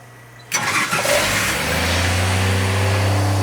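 A supercharged 1962 Slant Six engine on a dyno cranks once and catches, roaring loudly to life before settling into a steady, rumbling idle close by.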